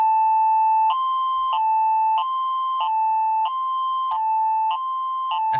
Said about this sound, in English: A fire alarm playing a tornado siren sound